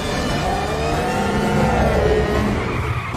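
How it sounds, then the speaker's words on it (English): A car speeds away during a police chase, its engine a steady loud roar with a rising surge midway, continuous and close with no voices. "The car sped away like a cheetah on the road."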